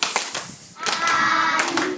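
Children in a Fiji Islands classroom clap during a Jolly Phonics lesson, a few loud hand claps in short bursts, mixed with children's voices chanting.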